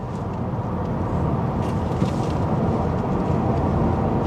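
A 2026 Honda Civic Hatchback Sport Hybrid with a 2-liter four-cylinder driving at speed in sport mode, heard from inside as a steady, dense road and engine roar with no talk.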